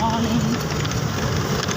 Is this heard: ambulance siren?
no